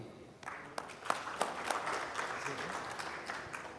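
Audience applause for a panelist at a cyber security panel discussion, moderately loud scattered clapping with sharp individual claps, sustained for several seconds after a quiet start.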